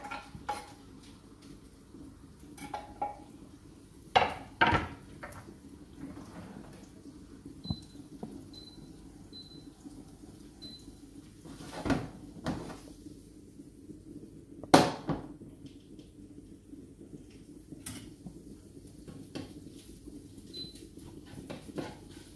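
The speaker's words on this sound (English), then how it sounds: "you just stir it around the pan until it's nice and brown and crispy" Bacon is pushed around a hot pan with garlic for pasta carbonara, giving soft scraping and a few sharp utensil clinks against the pan over a low background sizzle, with no voices.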